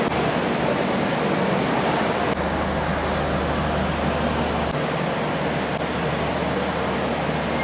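Steady low rumble of the 22201 Sealdah–Puri Duronto Express departing a station, with a high metallic squeal from the wheels rising for a couple of seconds partway through.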